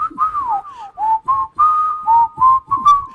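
A person whistles a short wavering tune of rising and falling notes with brief pauses between phrases, close and clear with no talking.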